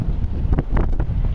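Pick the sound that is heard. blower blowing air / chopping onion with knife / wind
wind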